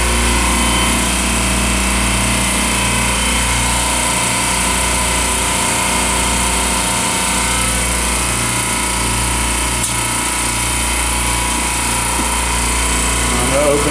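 A medium-temperature refrigeration rack compressor with an oil/refrigerant leak at the oil separator runs with a loud, continuous mechanical drone and a pulsing low throb, steady throughout and heard up close.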